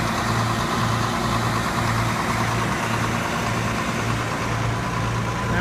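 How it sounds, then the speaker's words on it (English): A turbocharged John Deere 6620 combine engine idles steadily at close range, a continuous low diesel rumble with a faint rhythmic pulsing and no talk over it. "I know it's a turbocharged engine"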